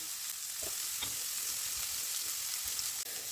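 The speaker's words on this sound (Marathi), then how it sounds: "त्याचबरोबर मध्ये आपण आता ह्याला लसणाला एक थोडासा तडका देऊया" Garlic sizzles in hot oil as a tempering step for a vegetable stir fry. A steady, close frying hiss carries soft crackles and pops throughout.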